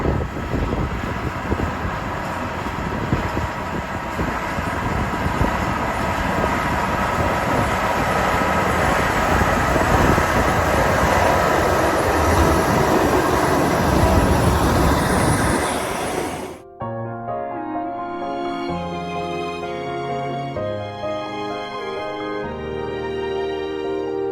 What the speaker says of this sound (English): Here's the Cog Railroad coming back down the hill.